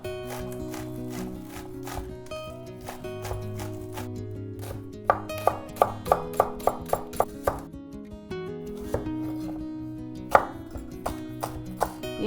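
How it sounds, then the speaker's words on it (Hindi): A knife chops the white portion of green onions on a board for veg chow mein, with a quick run of about ten crisp, evenly spaced strikes and another lone hit later, all over steady background music. "ये वाइट पोर्शन हरा प्याज का काट रही हूँ मैं"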